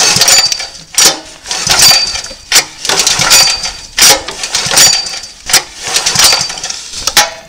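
Repeated pulls on the weak recoil starter of a small non-Honda engine, rasping rope strokes in an uneven rhythm about twice a second, close and loud, without the engine catching.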